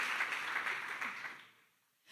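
A church congregation gives a short burst of applause, a soft wash of clapping that fades out quickly into near silence.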